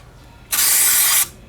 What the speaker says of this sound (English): got some good old clean flow air intake cleaner and just spray it around